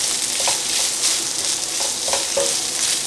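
Sauce for orecchiette with meatballs and sausage sizzles steadily in a pan, a loud, close hiss with occasional soft stirring scrapes and no talking.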